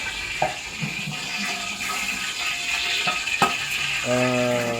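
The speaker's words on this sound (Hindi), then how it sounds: "तेल हंगामा कर रहा है, हंगामा।" Hot oil sizzles in a pan for chicken pulao, a close, busy crackle with some clinks and scrapes of utensils against the pan.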